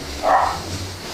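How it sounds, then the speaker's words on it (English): A dog barks once, a loud, near burst over a low steady hum, with no talk. "Dog's going nuts."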